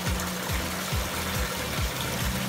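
Water running from a household tap supplied by a TSUNAMI CMS-IPC series home water pump, with several taps open; a steady gushing flow over a low, pulsing pump hum that repeats roughly every half second, continuous and fairly close.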